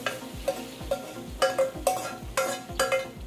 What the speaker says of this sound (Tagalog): lagay natin yung ating pinalambot na munggo.